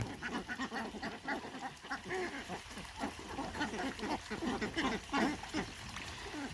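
A flock of 109-day-old farmed laying ducks quacks continuously, many overlapping calls forming a dense, lively chorus close at hand.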